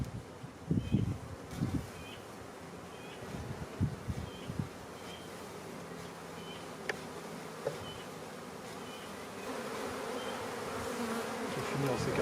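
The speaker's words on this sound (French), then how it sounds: "C'est joli hein, quand même, pour un essaim secondaire, c'est une colonie extrêmement forte." A strong secondary swarm of honeybees hums as a steady, dense buzz close by, with individual bees zipping past and a few soft knocks and rustles in the foreground.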